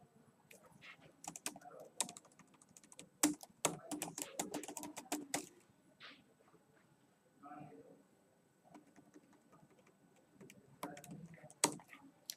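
Computer keyboard keys tapped while entering a search in an online help portal, clusters of quick clicks in bursts with pauses between, fairly close, with a voice talking at times.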